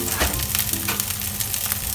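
Spring onion sizzles and crackles in a hot frying pan, with a brief busy hiss and light stirring and no voices.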